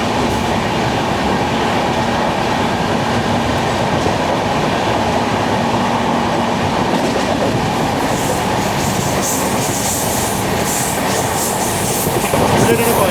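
Inside an AC chair car of the 12675 Kovai Express between Chennai and Coimbatore, a continuous rumbling roar of wheels and rail clatter fills the coach, brightening slightly toward the end.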